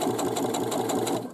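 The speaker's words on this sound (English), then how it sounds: "I have a camera between me and the sewing machine" A home sewing machine runs steadily, stitching a pocket onto a drawstring bag, with a rapid even mechanical whir and a regular needle tick that stays loud and close throughout.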